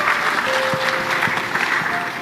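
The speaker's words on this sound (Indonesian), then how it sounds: "Tepuk tangan buat bapak-bapak utamanya." Audience clapping steadily for a couple of seconds at a gathering, a dense patter of many hands at moderate level with no voices over it.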